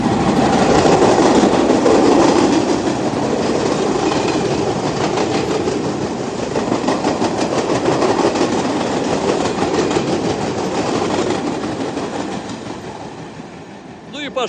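A New York City subway train rolls past on the tracks, a loud, steady roar with rhythmic clickety-clack of wheels that fades slightly toward the end.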